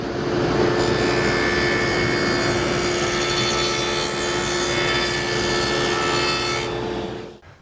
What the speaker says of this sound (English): I need to go over the table saw and set up a dado stack with a 1/2 inch reveal